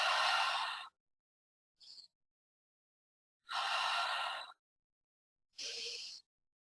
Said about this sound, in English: So we're going to breathe in through the nose and exhale out the mouth.